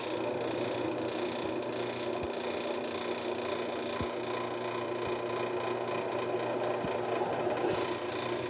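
A Harbor Freight Central Machinery drill press drives a step bit through roughly 1/8 inch steel, giving a steady mechanical whir and hum with scraping cutting noise and a few sharp clicks, with no talking.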